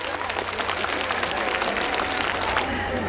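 An outdoor audience applauds during a performance at the Geumho River Baramsorigil festival, steady moderate clapping from a crowd lasting a few seconds.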